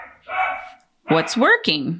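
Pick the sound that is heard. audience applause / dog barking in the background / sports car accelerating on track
dog barking in the background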